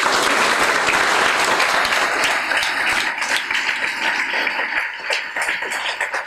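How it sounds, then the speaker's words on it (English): Audience applause follows a request to clap during a talk on joining the IAS or IPS: a dense, loud burst of many hands that thins into scattered, tapering claps over several seconds. "Please give a clap here."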